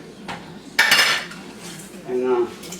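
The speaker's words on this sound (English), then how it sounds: "Give it a stir like this, so everything gets mixed into the pork skin" A utensil stirs pickled pork skins in vinegar inside a container, giving a few brief metallic clinks and scrapes against quiet background noise.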